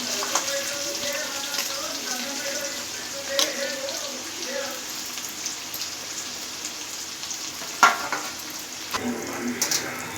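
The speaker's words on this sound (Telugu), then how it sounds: "ఆనియన్స్, పచ్చిమిర్చి, కరివేపాకు వేసుకొని మంచిగా ఫ్రై చేసుకుందాం." Onions, green chillies and curry leaves frying in a pan, a steady soft sizzle with occasional stirring clinks and taps, while a voice speaks over the cooking.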